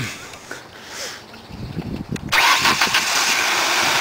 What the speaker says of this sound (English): Okay, Len, start her up.